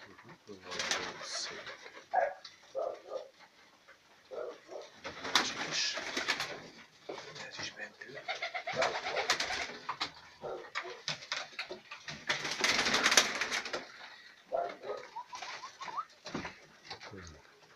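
Hungarian Deres pigeons coo and flutter softly in a loft, with low murmuring calls and patter of movement rising and falling over the whole stretch, fairly faint and close by.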